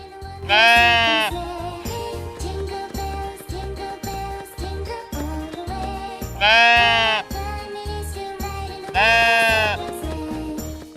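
Sheep bleat three times, wavering and loud, over a light musical backing with a soft tinkle.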